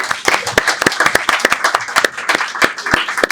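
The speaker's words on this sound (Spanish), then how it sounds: "Fuerte el aplauso para él, por favor." Audience applause in a conference hall at a film-festival talk, a dense run of many hands clapping with sharp individual claps standing out, loud and steady for a few seconds with no talking.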